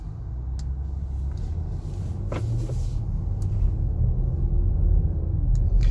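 A 2019 BMW X7 40i pulls away and accelerates, its engine a steady low rumble heard from inside the cabin, swelling gradually over about six seconds with no talking.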